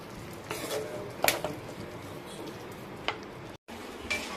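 Salted prawns being stirred in a hot pan, soft sizzling under a few sharp clinks and scrapes of a utensil against the metal, close and unaccompanied by talk.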